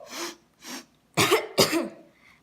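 Cartoon pony with a cold, sniffling twice and then giving two sharp, loud coughs up close, with nobody speaking.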